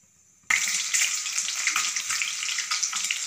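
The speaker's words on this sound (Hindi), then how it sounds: "तो चलो अब अंडा ला डाल थन, तलबो अंडा ला।" An egg drops into hot oil for an egg and potato curry. After a brief near-silent moment, a sudden loud, steady crackling sizzle starts and keeps going close up.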